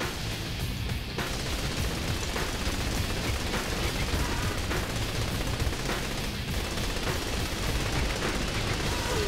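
Gunfire in the video game Saints Row 3, a continuous loud barrage of rapid shots and bursts over dense battle noise, filling the whole stretch without talk.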